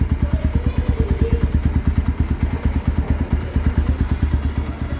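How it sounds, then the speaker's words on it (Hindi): Underbelly exhaust of a 2022 Bajaj Pulsar NS 125 motorcycle idling steadily, a close, loud, even stream of rapid low thumping pulses with no voices. "स्टार्ट करके आपको एग्जॉस्ट नोट सुनाते हैं"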